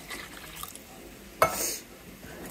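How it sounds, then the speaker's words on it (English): Can of water poured into a cooking pan with stewed tomatoes, a short faint splash that then trails off into a soft trickle, with no talk. "And then you put a can of water."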